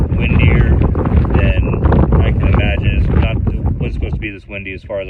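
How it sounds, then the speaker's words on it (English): Strong wind buffets the microphone in a loud continuous roar, with a voice speaking over the gusts. "it is windier than I can imagine"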